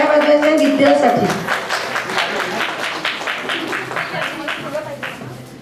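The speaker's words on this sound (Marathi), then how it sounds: "तिच्यासाठी सगळ्यांनी जोरदार टाळ्या वाजवायच्या विद्यासाठी" A crowd at a family celebration applauding loudly for Vidhya, with dense, sustained clapping that slowly thins, mixed with chatter and a voice over it at the start.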